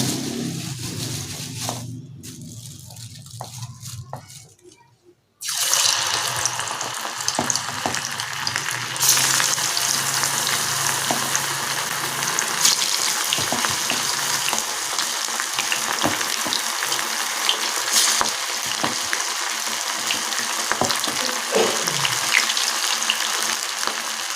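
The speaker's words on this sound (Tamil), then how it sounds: "இப்போ நம்ம வந்து கபாப் போட்டுடலாம் எண்ணெயில்." Ground masala kebabs fry in hot oil after a quieter stretch at the start; once they go in, a loud, dense, continuous sizzle and bubbling takes over and holds steady to the end.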